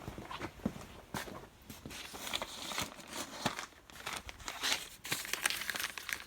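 The plastic package of a brand-new Tiny Tach tachometer crinkles and crackles close up, in irregular bursts of handling noise with sharp crunches scattered across the whole stretch.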